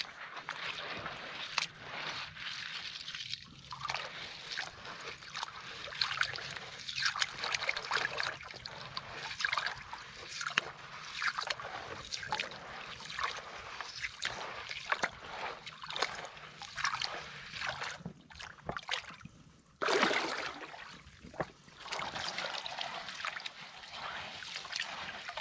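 Gold pan of heavy gravel swirled and washed in cold water, rhythmic sloshing and splashing with trickling water, close and steady, one louder splash near the end.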